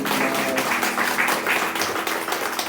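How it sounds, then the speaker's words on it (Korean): A congregation applauding during a Sunday morning church service, dense sustained clapping from many hands filling the room at a steady, loud level with no break. "우리 하나님께 영광의 박수 올립니다."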